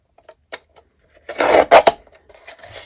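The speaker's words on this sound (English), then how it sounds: "I'm just going to trim this like to even it up." A paper trimmer slices through a narrow strip of paper, giving a close, dry rasping cut of about a second with a few brief scrapes and ticks before and after in a quiet room.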